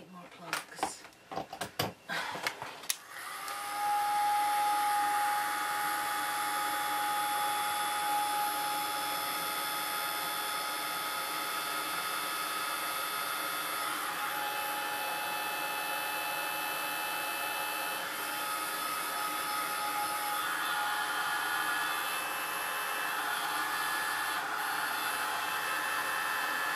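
A hair dryer blows on a mixed media canvas, starting after a few seconds of handling knocks and then holding a loud, steady whooshing drone close by that runs on to the end.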